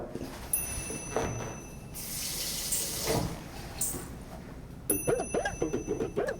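A tap runs with a steady splashing rush that swells in the middle, against faint background noise; a voice and other bursts of sound come in near the end.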